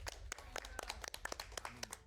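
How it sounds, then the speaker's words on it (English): A group of people claps for a cat character in a game, with dense, irregular hand claps close by that continue steadily for about two seconds without talk. "Can we get some claps for the cat?"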